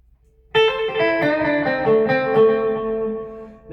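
Electric guitar on the clean channel of a Peavey Vypyr X2 amp: after a quiet start, a run of picked notes and chords rings out bright and close, then trails off into a lingering sustain.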